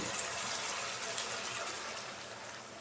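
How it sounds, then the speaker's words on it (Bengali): Water pours steadily into a pot of buffalo meat and potato curry that has been fried with spices until the oil separates, a close, continuous splashing gush with no pauses. "এখন অল্প করে ঝোলের পানি দিয়ে দেব"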